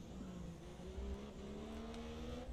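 Formula 1 cars from the F1 2017 racing game roar steadily on track, a rising engine whine sustained throughout with no talk over it.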